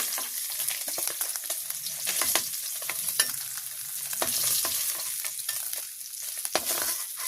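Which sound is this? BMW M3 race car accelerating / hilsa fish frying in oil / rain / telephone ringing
hilsa fish frying in oil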